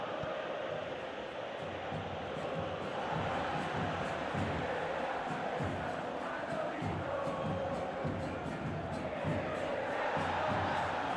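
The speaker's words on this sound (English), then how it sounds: "Crowd appreciates good football all round there." Stadium crowd in a PES 21 football match between River and Belgrano, a dense continuous roar of cheering and chanting that swells slightly midway, heard from within the stands with no clear talk over it.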